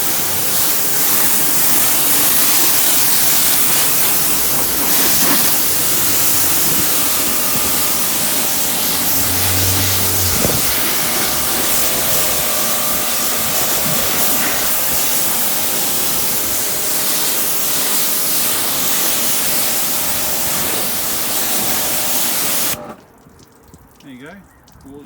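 Water sprayed from a hose rinsing a car after a ceramic wash, a loud, close, continuous hiss of spray on paintwork that runs steadily and then stops abruptly near the end.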